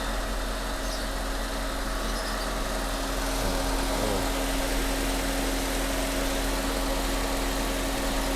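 A 40-year-old Mercedes 190E engine idles with the oil cap removed, blowing back pressure from worn piston rings and valve seals; a steady, loud mechanical drone with a constant hum throughout.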